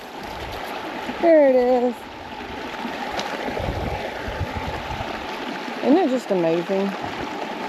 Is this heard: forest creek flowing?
yes